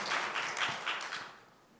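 A church congregation gives a short round of applause, several bursts of clapping at moderate volume that fade out within about two seconds.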